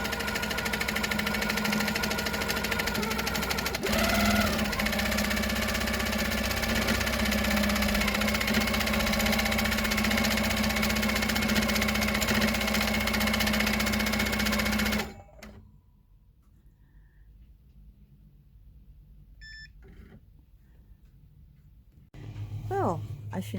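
A sewing machine quilting a pinned quilt runs in a steady, close mechanical whir with a rhythmic needle hum for about fifteen seconds, then stops. After that come near-quiet handling noises and faint sounds.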